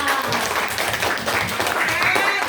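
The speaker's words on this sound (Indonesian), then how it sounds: "Tepuk tangan buat kita semua." Group of people clapping hands together in a classroom-style gathering, a brief dense patter of applause with some voices mixed in.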